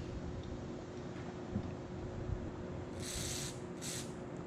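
Two short hissing bursts of cleaner sprayed through a part of an Eaton Viper 70, over a steady low hum of background noise.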